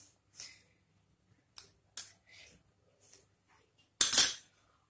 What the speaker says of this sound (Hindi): उस पे हम 1 चम्मच तेल डालेंगे